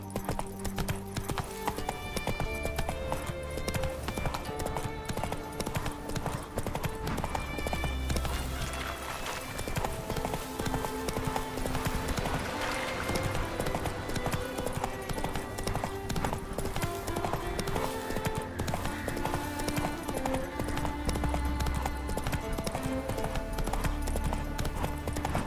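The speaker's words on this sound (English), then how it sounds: "Whoa there, Roach" Horse hooves clip-clopping in the video game The Witcher 3, a rapid, steady galloping rhythm running throughout amid game music and ambience, with brief bits of talk.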